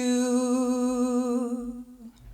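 A singer holds a steady voiced tone with a slight waver in a vocal siren exercise imitating an ambulance siren, moderately quiet and close, then the sound cuts off abruptly near the end.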